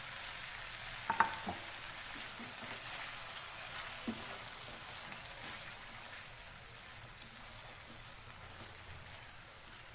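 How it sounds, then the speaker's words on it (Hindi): Chicken shashlik pieces with onion, capsicum and tomato cook in a pan, giving a steady close sizzle with light spattering crackles and a few soft knocks of stirring, no talking. "5 से 6 मिनट के लिए इनको भी चिकन के साथ कुक करेंगे"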